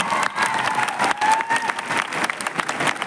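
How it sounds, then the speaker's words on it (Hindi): Dense audience applause at a Safe Shop company gathering in India, a steady wash of many hands clapping close and loud throughout, with a faint tonal whistle-like sweep partway through. "साथियों एक बार आपके लिए शानदार तालियां होगा"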